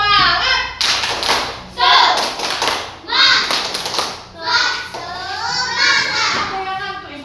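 Schoolchildren in a classroom do a 'tepuk semangat' spirit clap, loud bursts of rhythmic group clapping alternating with chanted children's voices, repeating in patterned sections close by.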